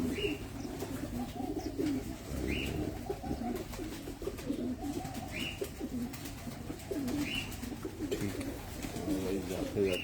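Pigeons on an Abu Dhabi rooftop coo repeatedly in low, rolling calls, with a few sharper chirps and occasional voices murmuring in the background.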